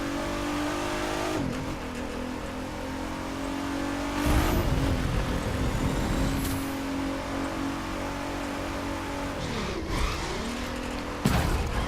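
A Nissan Skyline driven in The Crew 2, the engine droning steadily and revving up through repeated gear shifts, with sharp dips and surges between changes and no talk.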